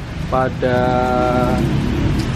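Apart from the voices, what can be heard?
heavy rain at Klaten railway station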